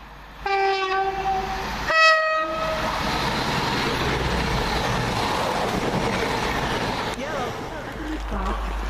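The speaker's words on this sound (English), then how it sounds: "There's our train out of here." A train leaves Smethwick Galton Bridge station. Two loud horn blasts sound early, then a steady rumble builds as the carriages roll away, with a voice audible over the noise.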